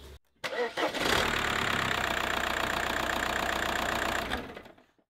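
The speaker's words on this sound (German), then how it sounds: "Ich gehe jetzt rüber ins Auto, starte den Motor und werde die Räder gerade stellen." A VW Passat engine cranks briefly, catches and settles into a steady, loud mid-pitched idle for several seconds before cutting off.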